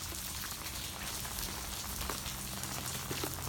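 Rain falls steadily outdoors, a close, even patter of drops on surfaces that continues without a break, with no talking.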